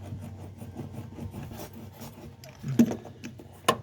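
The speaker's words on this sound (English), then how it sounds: "You're supposed to use a little roller tool." Hand roller tool pressed hard and rolled over an adhesive sheet, a soft, close, irregular rubbing and rasping with a few sharper contact knocks near the end.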